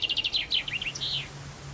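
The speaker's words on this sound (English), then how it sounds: "Just imagine hearing birdsong for the very first time." Bright, rapid bird song with a run of quick chirps and trills, followed by a longer sweeping whistled phrase, heard alone and fairly close against a faint low hum.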